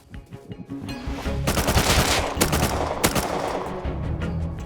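Rapid bursts of automatic gunfire in the Rust video game crack out loud and close, running in clustered volleys across the clip with a steady rumble of game ambience beneath.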